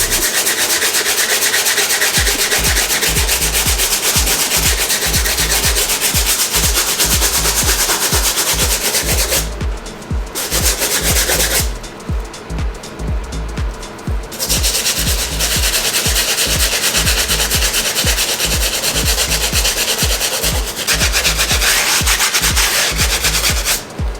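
A stiff bristle brush scrubbing Off-White Jordan 1 sneakers during cleaning, rapid rhythmic back-and-forth strokes, close and loud, with two brief pauses midway, no talking.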